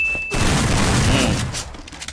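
Gunfire in a shooter video game: a dense rapid burst of shots with a booming low rumble that cuts off abruptly, followed by faint trailing pops.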